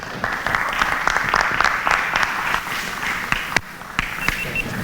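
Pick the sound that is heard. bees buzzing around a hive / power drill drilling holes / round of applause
round of applause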